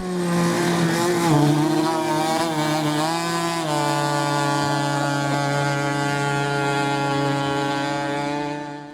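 A racing hydroplane boat engine roars loudly and steadily at a powerboat race in Khmelnytskyi, Ukraine, its pitch sliding and shifting early on before settling into a sustained drone.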